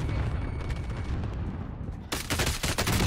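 Gunfire in a video game battle: a muffled rumble of distant shots, then a burst of loud, rapid automatic fire close by in the final second.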